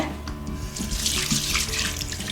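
Water from a tap runs steadily over a clay pot being rinsed in a sink, splashing close and loud without pause.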